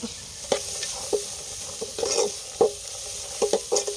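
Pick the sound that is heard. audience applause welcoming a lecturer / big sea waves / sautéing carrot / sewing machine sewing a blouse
sautéing carrot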